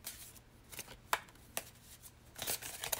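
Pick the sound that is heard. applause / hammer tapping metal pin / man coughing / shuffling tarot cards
shuffling tarot cards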